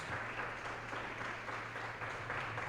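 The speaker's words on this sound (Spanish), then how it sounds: "¿Cuántos dan un aplauso al Señor por ello?" A church congregation claps during a Sunday service, a soft, even wash of applause heard at a distance over a low electrical hum.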